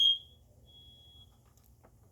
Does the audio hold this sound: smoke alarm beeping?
yes